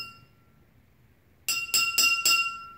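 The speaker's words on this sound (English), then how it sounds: "definitely if I hit it on the side of the glass." A fork tapped against the side of a glass at home gives four bright, ringing clinks in quick succession, each one sustaining and overlapping the next, heard alone after quiet room tone.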